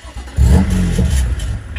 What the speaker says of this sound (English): Starts car.